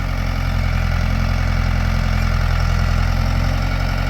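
An old hydraulic excavator's diesel engine running steadily, a close, loud, continuous low rumble with a faint knocking throb and no talk.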